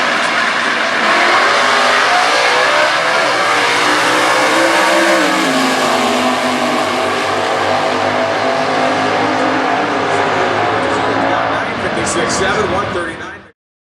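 Stock eliminator drag cars, a Chrysler 426 and an LS-powered car, roar off the line and rise in pitch as they accelerate hard at the US Nationals, engines loud and sustained beneath a commentator talking throughout.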